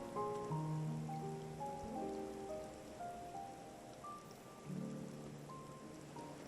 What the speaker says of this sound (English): Am I gonna sit on the beach when it's raining?